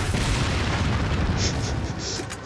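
A rocket explosion in the video game Resident Evil 4, a loud, heavy low rumble that holds steady, then fades slightly as faint clinks sound over it.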